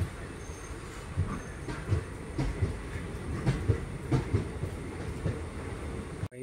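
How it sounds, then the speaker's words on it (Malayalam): An unreserved passenger train rolls past at an Indian railway station on the Punalur–Sengottai line, with a steady rumble and rhythmic clickety-clack of wheels over rail joints, moderately close and unbroken by talk. "ആ പോകുന്നു അൺറിസർവ്ഡ് ട്രെയിൻ"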